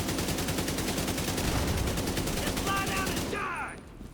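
Dense, continuous gunfire in a video game firefight, with a grenade thrown into the mix, ending in a burst and fading sizzle as the barrage cuts off; steady and loud throughout.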